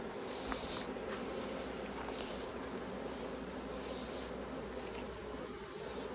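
Honeybees drone in a steady, dense buzz around a hive during a May split, with faint handling rustles and no speech.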